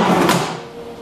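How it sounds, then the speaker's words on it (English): The glass safety door on a DM3000 lathe slides along its track in one quick, close, loud rolling swish that fades into a faint hum. "One of the nice features on this lathe is the"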